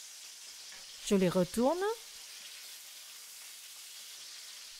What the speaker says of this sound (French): Je mets les morceaux de poulet. Je laisse saisir pendant 1 minute 30.